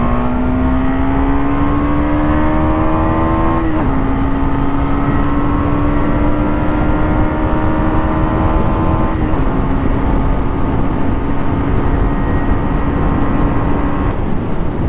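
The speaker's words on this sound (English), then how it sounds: "but if you want to rev it hard," A Husqvarna Svartpilen 250 motorcycle engine revs hard past 6,000 RPM and climbs in pitch through gears, with brief dips at each shift, loud and continuous with wind roar.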